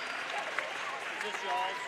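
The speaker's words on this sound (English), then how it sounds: "And Paige Gilmore gets a round of applause." Brief, soft patter of applause from a crowd at a varsity girls' basketball senior night game, heard faintly under an announcer's voice.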